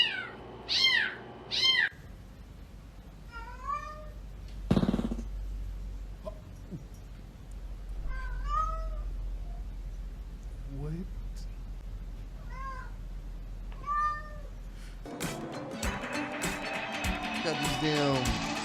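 Cat meowing repeatedly in short, rising and falling calls spaced a second or two apart, fairly close, with a thump partway through and brief human chatter and noise toward the end.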